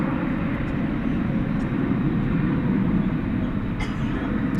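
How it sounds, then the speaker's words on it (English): Airbus A321 jet at DFW Airport at night, a continuous low engine rumble holding steady throughout with a few faint clicks over it. "It's an Airbus A321."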